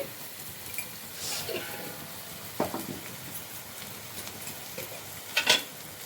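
Dry fish curry is stirred in a pan, with quiet scraping and occasional sharp clinks of a spoon against metal over a soft background hiss.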